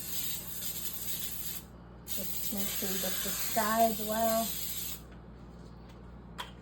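Cooking spray hisses into a pan in two long bursts, briefly pausing between them, while a person speaks over the second spray.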